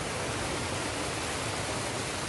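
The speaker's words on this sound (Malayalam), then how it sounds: "നല്ല മനോഹരമായ ചെറിയൊരു വെള്ളച്ചാട്ടം" A small waterfall at the Atlantis Aquaventure water park gives a constant hiss of falling water, fairly soft and unbroken throughout, with no voices.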